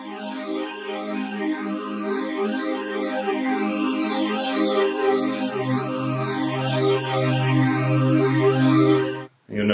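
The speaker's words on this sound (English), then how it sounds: "So I added a phaser in there, which gives you this sense of the sound shifting between the speakers and moving around." Spacey synth pad run through a phaser that sweeps steadily so the sound seems to move between speakers, sustained and smooth, with a lower held note entering halfway and the volume gently rising.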